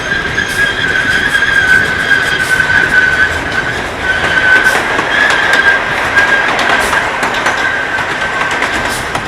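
The Knoebels Pioneer Train amusement park ride rumbles steadily along its rails, wheels clacking and a thin metallic squeal ringing above the continuous rolling noise.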